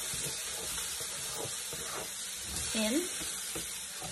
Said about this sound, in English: So I'm gonna saute these onions up, then I'm gonna throw some carrots in.